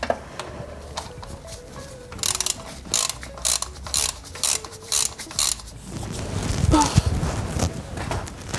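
Ratchet working loose the timing belt tensioner on a Honda Civic D14 engine, a run of quick, close clicking bursts, with talk and clatter in the second half.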